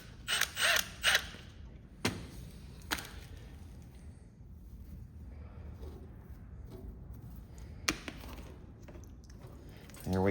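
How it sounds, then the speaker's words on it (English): Ratcheting clicks and scraping from a wrench backing a bolt out on a Cub Cadet 782 garden tractor, a few sharp bursts near the start then intermittent clicks over a low steady hum, close and moderately loud. "I'm going to turn that bolt right out of there"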